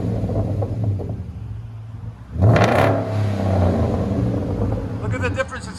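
A 2011 Hyundai Genesis 4.6L V8 with a Magnaflow true dual exhaust idles with a low, even burble, then gives one sharp, loud rev that quickly falls back to a steady idle.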